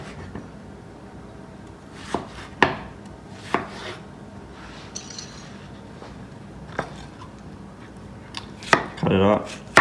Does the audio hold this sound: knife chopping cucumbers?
yes